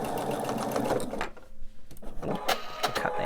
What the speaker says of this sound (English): I'm sewing everything together